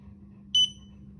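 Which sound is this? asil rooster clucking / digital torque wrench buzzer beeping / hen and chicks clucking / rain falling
digital torque wrench buzzer beeping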